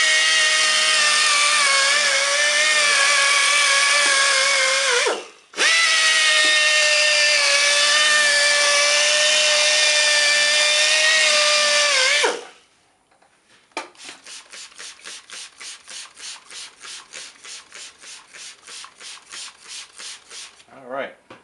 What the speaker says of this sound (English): I'm done with the sandpaper now.